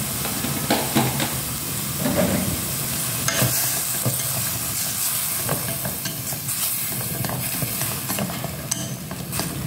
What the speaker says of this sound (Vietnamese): Đảo đều nhé.